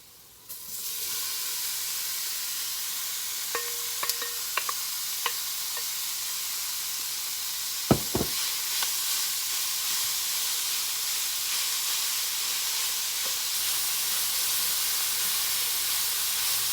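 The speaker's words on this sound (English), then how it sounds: "we're going to add our ground beef to our dish" Ground beef hits browned onions in a hot skillet for homemade Hamburger Helper, setting off a loud, continuous sizzle that holds steady, with a few faint clinks and scrapes of a utensil partway through.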